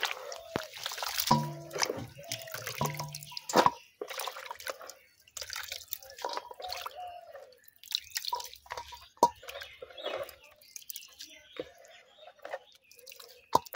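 Dhenki greens rinsed under a running tap, with irregular drips and splashes of water over a quiet background, broken by soft talking and handling noises.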